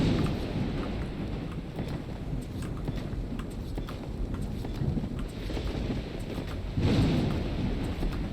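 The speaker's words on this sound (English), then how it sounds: "Even though it's a huge thunderstorm on the map right now" Heavy rain and rumbling thunder in the ARK video game during a huge thunderstorm, a dense steady roar throughout with a louder surge of low rumble near the end.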